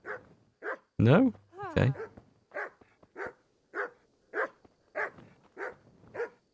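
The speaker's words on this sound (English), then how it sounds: "Might be a police dog." A dog in the medieval game Kingdom Come: Deliverance barks in a steady series of sharp, evenly spaced woofs at mid distance, with a brief stretch of talk over the first barks.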